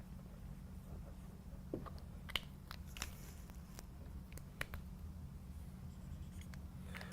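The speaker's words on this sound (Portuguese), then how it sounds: "Vou escrever aqui a fórmula." Chalk or pen writing a formula on a classroom board during an Enem prep math lesson, heard as sparse faint taps and short strokes over a steady low hum, with no talking.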